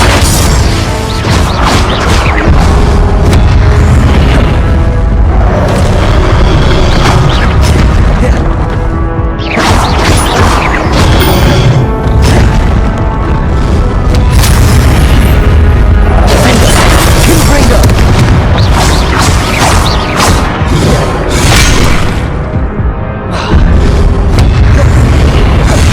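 Confringo blasting spells in Hogwarts Legacy combat go off again and again as heavy booms and crashes within a loud, busy fight, with shouted voices heard throughout.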